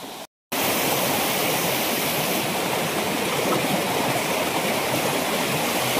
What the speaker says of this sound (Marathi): पाणी पण बऱ्यापैकी आहे पर्याला आपल्या